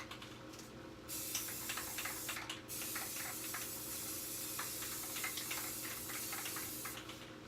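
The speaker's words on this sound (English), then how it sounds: "so I sprayed it white" A can of white spray paint hisses onto a glitter geode craft piece in continuous bursts, with short pauses near the start, close and steady, no talking.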